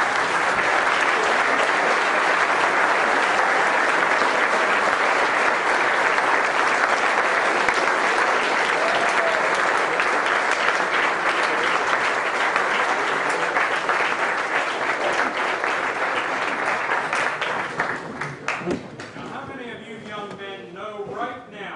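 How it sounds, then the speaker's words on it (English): A standing assembly audience at a judge's school event gives a long, loud round of applause, dense clapping sustained for about eighteen seconds before fading, with voices emerging as it dies down. "So let's get up off your feet and give them a round of applause."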